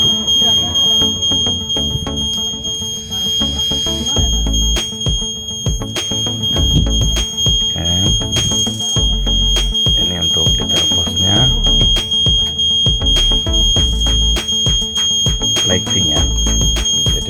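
A cheap miniature railway level crossing set of the Daop 1 type sounds its warning alarm: a loud, continuous electronic ding-dong tone that repeats in a fast, busy pattern without pause.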